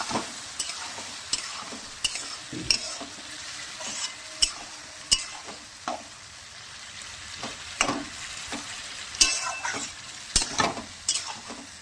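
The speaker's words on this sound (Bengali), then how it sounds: "নাড়াচাড়া করবো মাংসটাকে" Mutton being stirred in a pan for chosa, heard close up as a steady sizzle broken by frequent sharp scrapes and clacks of the spoon against the pan, with no one speaking.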